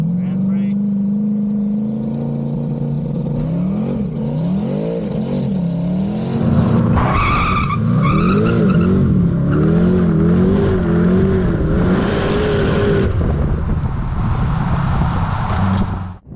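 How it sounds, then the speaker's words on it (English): A car with a TH400 Turbo 400 transmission holds on the trans brake as its engine revs up in rising and falling pulls, then launches into a loud sustained roar nearby, with a voice speaking over it. "we're just gonna get on the trans brake and yeah, I'm gonna let it rip"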